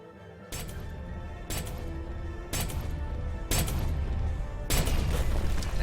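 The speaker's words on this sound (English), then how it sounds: "Fire every cannon." Five heavy video-game cannon blasts boom at roughly one-second intervals, each loud and sharp with a rumbling tail, growing louder as they go.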